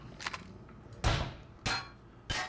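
Rock drilling in the space survival game Empyrion Galactic Survival comes as three separate short, broadband bursts of harsh grinding with pauses between them, plus a few fainter clicks, and no talking.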